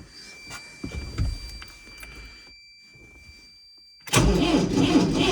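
An MTZ tractor's diesel engine, with 2113 engine hours, cranks briefly, goes quiet, then catches and starts, settling into a loud, steady running rumble close by.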